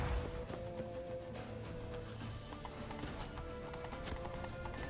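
Horse hooves clip-clopping at a steady gallop in The Witcher 3, a continuous rhythmic beat under game music and ambience, with no talk over it.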